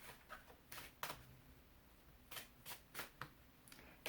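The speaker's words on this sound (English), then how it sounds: "Gotta give this one a good shuffle." A deck of cards, likely tarot or oracle, is shuffled by hand in quick, uneven bursts of riffling and flicking, quiet and close with no talk.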